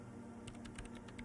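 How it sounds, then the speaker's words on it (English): Quiet computer keyboard keys tap in a quick run of about half a dozen light clicks over a steady low hum, heard in the game Disco Elysium. "Sona Lokanen-Kilda presses unmute on her keyboard"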